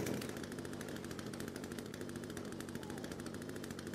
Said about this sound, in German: Oh, Kettensäge ausprobieren.